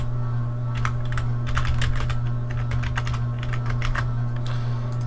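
Steady, rapid typing on a computer keyboard, crisp clicks in uneven bursts over a constant low electrical hum, close and alone.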